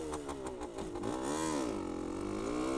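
A two-stroke moped engine revs hard nearby, the pitch climbing and dipping in a couple of swells before it settles into a sustained high buzz, with no talking.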